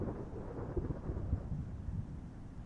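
Thunder rolls in a low, steady rumble with a few deeper swells, fairly faint and heard alone with no voices.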